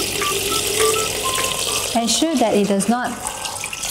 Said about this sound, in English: Add water.